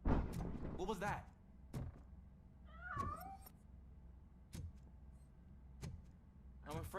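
A cat meows in RoboCop: Rogue City, one clear wavering meow near the middle with a short vocal sound earlier, set between sharp periodic thuds over a low ambient hum.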